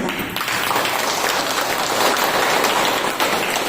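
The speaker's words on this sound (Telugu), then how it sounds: "ఇక్కడికి వచ్చి కొత్తగా వచ్చిన వాళ్ళందరికీ కూడా ముందుగా గట్టి క్లాప్స్ కొడదాం." A crowd claps in a dense, steady burst of applause for newcomers at a gathering, a continuous rain-like patter with no voices over it.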